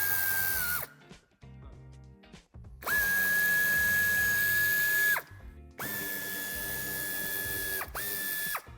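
Power screwdriver backing screws out of a Range Rover Evoque wheel arch liner in three bursts of steady whirring, each starting and stopping abruptly, close and loud with clicks in between.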